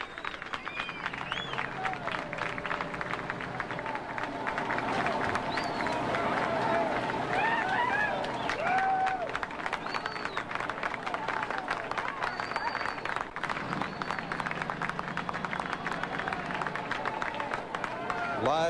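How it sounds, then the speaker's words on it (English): Crowd applause and clapping as 18-month-old Jessica McClure is brought up alive in Midland, Texas, in 1987: a dense, steady wash of many hands that continues under talking voices throughout. "There's clapping."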